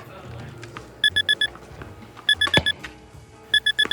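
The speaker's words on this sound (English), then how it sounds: "At first, I had no idea why my alarm was going off" An alarm clock going off in repeated bursts of four rapid high electronic beeps, loud and near, with faint background activity between the bursts.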